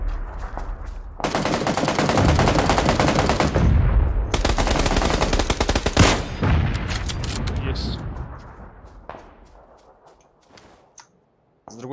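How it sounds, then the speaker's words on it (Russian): Dense machine-gun fire rattles in PUBG, with long automatic bursts loud and close, a heavy burst near the middle, then tapering into scattered distant shots over background game noise. "С другой стороны стреляет."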